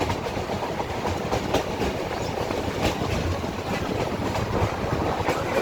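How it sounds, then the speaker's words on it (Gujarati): A meter gauge train runs through dense Gir forest, heard from on board as a constant loud rumble with a rhythmic clickety-clack of the wheels and no voices. "બે બાજુ ગીચ જંગલમાંથી ટ્રેન પસાર થાય છે."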